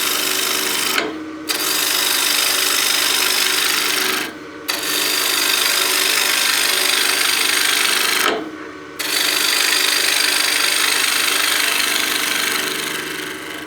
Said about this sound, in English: So I'll get my bowl gouge and we'll just start removing some material.